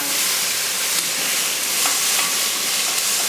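Food fries in a very hot pan as it is stirred to break it down while a Caribbean fish base is being made. A loud, steady sizzle and hiss runs throughout, with faint scraping from the stirring.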